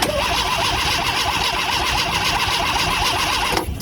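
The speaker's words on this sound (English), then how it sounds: "Let's see how well it cranks now." A retro Italian camper's engine cranks over steadily on its starter for nearly four seconds, close and loud, with an even, rhythmic compression pulse and no catch before it stops.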